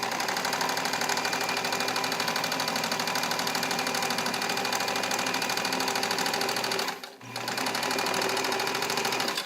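A restored all-metal Necchi BU Nova sewing machine runs at a short stitch length through dense nylon. It gives a steady, close, rapid mechanical hum, with one brief pause near the end before it starts again.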